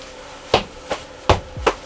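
A small hammer strikes a hard surface four times at an uneven pace, each blow a sharp, close knock standing alone over quiet background noise.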